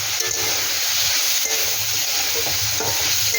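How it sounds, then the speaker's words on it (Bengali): Chicken roll filling for Malabar spinach leaf rolls fries with ground black pepper. A loud, steady sizzling hiss carries faint stirring scrapes throughout. "এটা গোলমরিচ গুঁড়ো দিয়ে দিচ্ছি গোলমরিচ গুঁড়ো এটা দিয়ে একটু ভালো করে ভেজে নেব"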